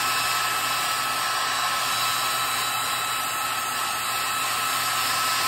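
Steady hiss of a blower pushing air to dry primer on a model finch, a constant close whoosh with no pauses and no voices.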